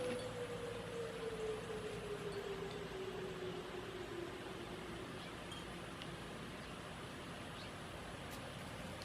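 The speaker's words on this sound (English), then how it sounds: "I hear a siren." A distant siren wails in a slow, steady falling tone, faint beneath constant broadband outdoor noise with no voices present.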